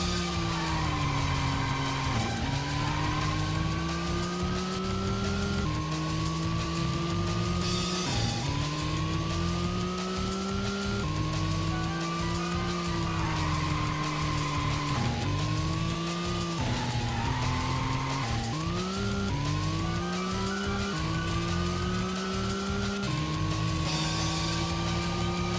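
A race car in the Racing Lagoon video game drives at high speed with a steady, loud engine drone that rises and falls with shifts, with tire squeals and skids breaking in at intervals.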